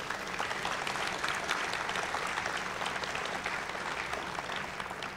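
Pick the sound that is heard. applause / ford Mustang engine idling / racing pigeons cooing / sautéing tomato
applause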